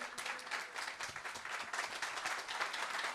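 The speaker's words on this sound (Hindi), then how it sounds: "ताली बजा के प्रभु का धन्यवाद करें।" Church congregation applauding to thank God, a steady, full round of clapping from many hands that runs without a break, heard at a moderate distance.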